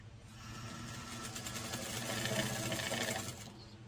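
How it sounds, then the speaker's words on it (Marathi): A sewing machine runs steadily while stitching a blouse with a half-inch seam allowance, giving a continuous close whirring hum for the full length before it slows at the end. "अर्धा इंचाची टिप आपली मारून झालेली आहे."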